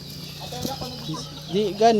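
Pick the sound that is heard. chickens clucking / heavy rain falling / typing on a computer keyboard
chickens clucking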